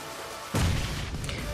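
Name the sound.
bomb explosion in video game BGMI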